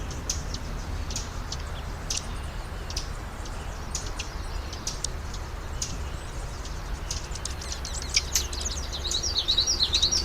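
Many sparrow songs layered together form a dense, overlapping chorus of high chirps and trills over a steady low background hum.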